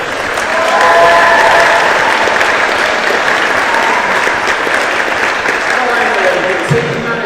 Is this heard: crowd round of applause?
yes